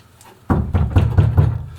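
Knuckles rap on a sound-deadened panel of a Mitsubishi Rosa bus under conversion, five or six dull, close knocks in a quick irregular run, each one short and muffled without ringing.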